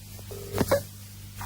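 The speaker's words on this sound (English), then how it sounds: "Now it's ringing." A telephone ringing tone sounds on the line in short electronic bursts over a low steady hum, quiet and close.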